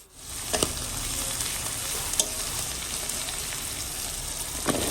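Chopped onion, crushed garlic, cumin seeds and bay leaf sizzle in hot oil, a sudden burst of hissing that settles into a steady spatter, with a few sharp utensil knocks against the pan and no speech.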